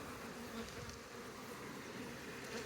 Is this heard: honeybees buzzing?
yes